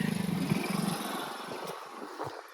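A motorcycle cuts straight through a crop field on a rural riverside path, its engine puttering in quick pulses for about a second before fading into rustling and faint distant noise.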